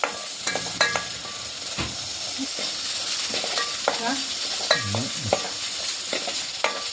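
Butter heated in a pan sizzles with a loud, continuous frying hiss, close by, with utensil taps and scrapes and brief voice sounds mixed in.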